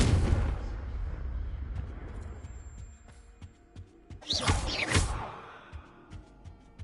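A Confringo blasting spell in Hogwarts Legacy lands as a loud fiery burst after a fading rumble, followed by crackling debris and scattered small pops.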